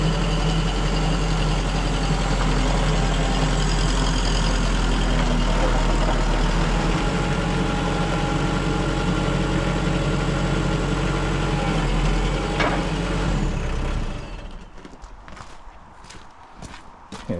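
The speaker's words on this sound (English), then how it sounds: "fire it up, warm the engine up a little bit" A drywall texture spray trailer's engine idles steadily as it warms up, a constant loud drone filling the space for about fourteen seconds before cutting out, leaving quieter shop sounds.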